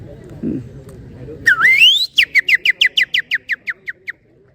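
A person gives a celebratory whistle, starting with a long rising swoop and then about a dozen quick, evenly spaced chirping notes, loud and close, after a brief murmur of voices.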